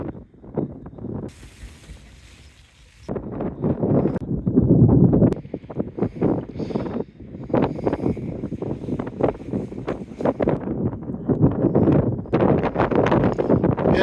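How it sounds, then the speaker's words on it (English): Strong wind gusting and buffeting outside a 3FUL GEAR TAIJI 1 tent on a stormy night, with surging roars and rustling flaps that rise and fall in loud waves, alone with no voices. "the wind is stronger than I actually realised"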